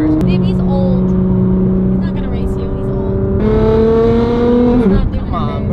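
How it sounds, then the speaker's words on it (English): A McLaren supercar engine hums steadily on the freeway, its tone climbing as the car accelerates and then dropping away, loud and close throughout, with people talking over it. "Car noises"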